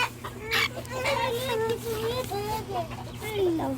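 A backyard chicken with white, black and brown feathers gives a run of soft rising clucks and squawks, close by, with people talking quietly underneath.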